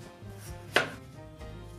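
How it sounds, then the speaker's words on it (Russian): A single crisp knife cut lands on a cutting board as a potato is thinly sliced amid quiet background, a short close chop with no voices. "Беру картошечку и нарезаю потоньше,"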